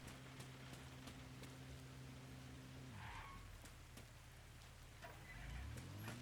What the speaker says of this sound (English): Get in out of the rain.